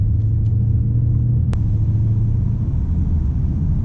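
A Hellcat muscle car in track mode accelerating hard, its deep rumbling engine droning loudly and steadily, with a brief sharp click partway through.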